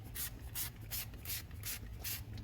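A water spray hoses caked mud off a car engine underneath, hissing in regular close bursts about every third of a second with no talking.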